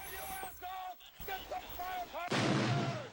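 Film battle sound effects of explosions, heavy thuds and concussive booms, with artillery-like bursts sounding near and loud, mixed with voices and a dense roaring blast toward the end.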